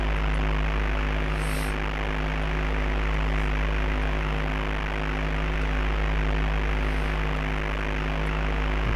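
Steady, loud droning propeller aircraft engine from the Atari ST game Flight Simulator II as the plane takes off from runway 22, a constant tonal hum with harmonic whine, continuous and alone throughout.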